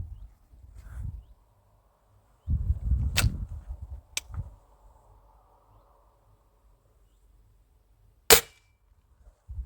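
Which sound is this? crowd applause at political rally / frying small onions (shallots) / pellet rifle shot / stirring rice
pellet rifle shot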